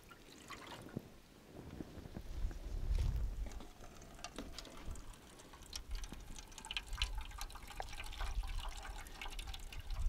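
Water poured from cups onto soil fields in a tabletop rainfall simulator, heard as soft, close trickling and dripping with scattered patters and splashes across the whole stretch, fairly faint.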